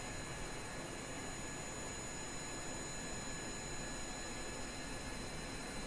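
Jet engines of an AV-8B Harrier in Kerbal Space Program give off a steady, faint whining drone with a constant high tone and unchanging rumble, alone without voices.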